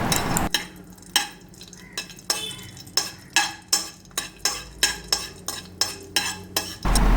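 Cashew nuts fry in ghee in a pan while a spatula scrapes the pan in regular strokes, roughly two per second, over a soft sizzle.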